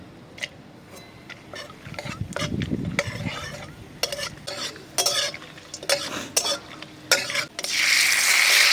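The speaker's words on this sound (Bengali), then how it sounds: "দিয়ে দিলাম শুকনো লঙ্কা, তেজপাতা, আর এই যে গোটা গরম মশলা ফোড়ন।" Dried red chillies, bay leaves and whole garam masala tempering in hot oil for a rooftop picnic dish, with a steady close sizzle broken by repeated scraping stir strokes and a loud hissing burst at the end.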